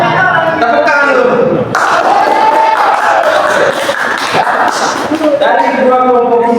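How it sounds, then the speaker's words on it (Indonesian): A class of primary-school pupils claps hands together in a classroom, a dense steady patter lasting several seconds, with children's voices and a teacher talking over it. "Tepuk tangan dulu"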